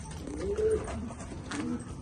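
Racing homing pigeons give soft, low coos in two short bursts, close by and fairly quiet against a faint background hiss.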